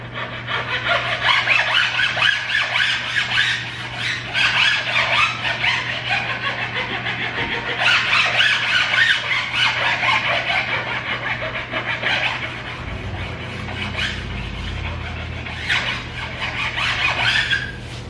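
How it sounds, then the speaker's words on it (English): A hand file is drawn back and forth at an angle over edge banding on a cabinet part, giving a loud, repeated rasping scrape with squeaky strokes in an uneven rhythm. "you want to kind of keep the file at like a 45-degree angle. Go back and forth."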